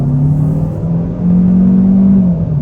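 A 2024 Kia K5 LXS engine revving under about one-third throttle, a loud steady droning hum that rises in pitch midway and holds, heard from inside the car with no talk.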